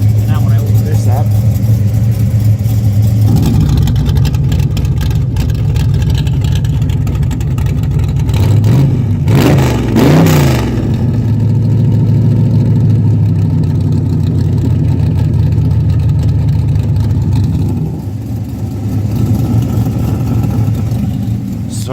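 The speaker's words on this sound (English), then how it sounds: "Right under here are my dump valves. Now when I open this up," A car with exhaust dump valves that are opened gives a loud, continuous engine drone with a few sharper revs partway through, close to the microphone.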